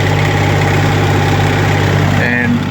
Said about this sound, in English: So let's start the tractor up and I'll show you.